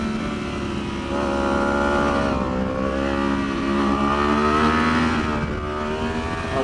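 A 2015-or-later Yamaha R1 superbike on a race track pulls hard under throttle, its loud, close engine note climbing steadily in pitch with no break.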